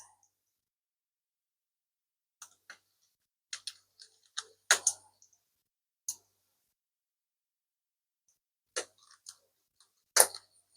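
Screws being fastened into a Dell G7 laptop battery: sparse, faint close clicks and small ticking taps in irregular clusters, separated by near silence.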